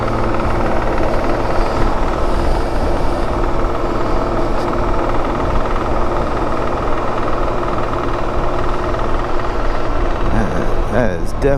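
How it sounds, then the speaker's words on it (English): Metal rattle from a BMW K1600B motorcycle, a steady clattering buzz under continuous engine drone that runs the whole time at a loud, even level. "definitely a metal clamoring sound"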